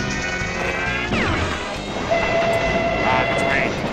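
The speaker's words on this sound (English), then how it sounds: "Ah, the train." Train sound effect from a pinball arcade game: loud mechanical clatter and a sharp crash, then a sustained horn-like tone and ringing electronic effects over busy machine noise.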